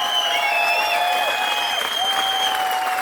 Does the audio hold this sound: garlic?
no